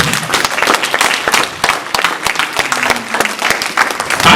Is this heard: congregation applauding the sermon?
yes